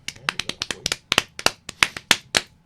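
A soul clap for Black History Month: a quick, uneven run of about fifteen sharp, close hand claps with no talking over them.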